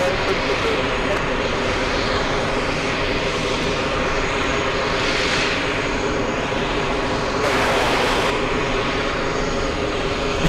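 An airliner rolls off the runway at JFK airport, its engines a loud, steady broadband roar that fills the whole stretch without a break, with talk over it.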